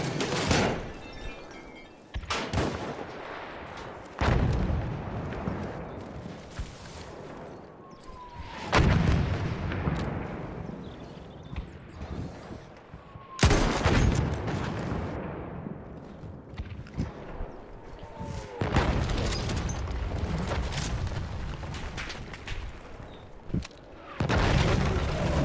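Battlefield 1 combat with mortar fire, repeated heavy booms and blasts mixed with rattling gunfire, some rounds loud and close, others duller and distant, continuing throughout.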